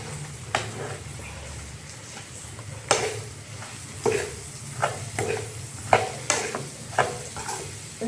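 A spoon stirs cooked papaya and carrot pickle in a pan, with repeated scraping strokes about once a second over a faint low sizzle and no talking.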